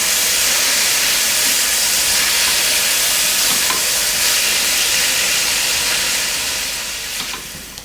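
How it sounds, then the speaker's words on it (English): Chopped tomatoes hit a hot saucepan of softened, browning mixture and set off a loud, dense sizzle that hisses steadily and close up throughout, easing slightly near the end, with no voices. "Chop 2 tomatoes into small chunks and add to the mixture into the saucepan"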